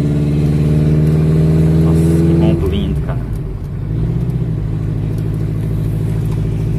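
A 1985 Chevrolet Chevette 1.6 alcohol-fuelled engine idles with a low, throbbing hum, then briefly revs and settles back, heard from close by with some talk over it.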